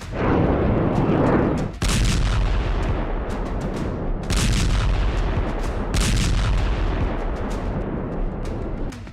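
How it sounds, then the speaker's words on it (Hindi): Heavy bomb and shell blasts in Beirut during wartime, a continuous barrage of loud booming explosions and rumbling gunfire, with sharp bursts near 2, 4 and 6 seconds and no voices. "इसी बम गोलों से बैरूत में नॉन स्टॉप धमाके हो रहे हैं।"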